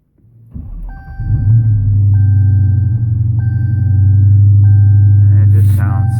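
A 2017 Dodge Challenger SCAT Pack with a shaker hood cranks and fires up, its low engine rumble building into a loud, steady idle close by, with a repeating chime beeping over it and a brief voice near the end.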